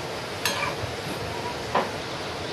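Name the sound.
deep-frying modak dumplings in oil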